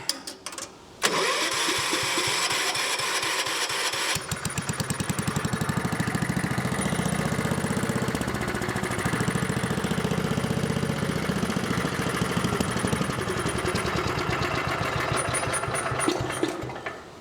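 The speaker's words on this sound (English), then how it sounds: "So let's go ahead and fire this welder back up." An engine-driven welder on a homestead cranks briefly, then catches and settles into a steady, loud mid-pitched running drone, heard up close and without talk.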